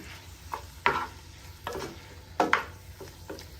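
Pasta being tossed with onions in a pan on an Italian recipe, heard as a few scraping, clattering stirring strokes over a soft background sizzle, close and alone with no talking.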